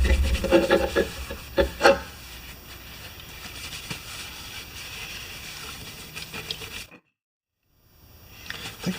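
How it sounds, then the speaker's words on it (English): Rag rubbing and wiping a Homelite mower part wet with brake parts cleaner during paint prep, a steady close scrubbing rasp with brief louder strokes, then a short silent gap before the rubbing resumes. "But first I'm going to just wash it down with some brake parts cleaner and wipe it."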